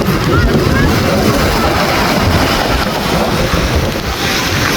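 Loud, steady rush of strong typhoon-driven waves and water with heavy wind buffeting the microphone, a continuous roar throughout, with voices faintly mixed in.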